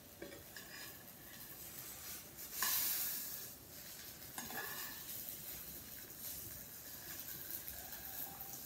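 Blintzes fry in a frying pan with a steady, close hissing sizzle throughout, and a couple of brief louder clatters from the pan or utensils.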